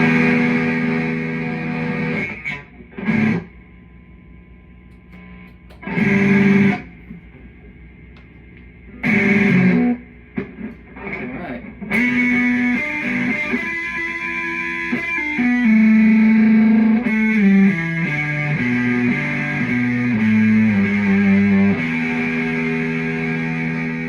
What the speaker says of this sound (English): Add a little fuzz to that.